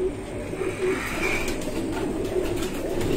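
Breeding pigeons coo continuously in low, rolling calls that overlap one another at close range, against a steady background hum.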